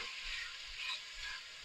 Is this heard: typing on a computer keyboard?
no